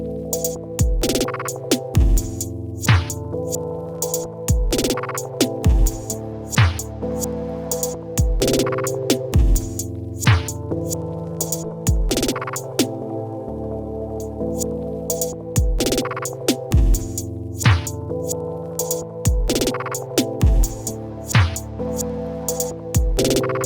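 A looping electronic drum beat from a Logic Pro library pattern, run through grain processing. It has sharp, repeating kicks and clicky percussive hits over a dense, textured bed, and it plays steadily and loudly with no voices.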